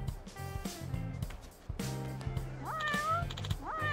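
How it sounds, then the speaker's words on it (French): A kitten meows repeatedly in the video game Like a Dragon: Pirate Yakuza in Hawaii, its rising cries set over in-game music and background sound, fairly faint. "Le chaton va bien?"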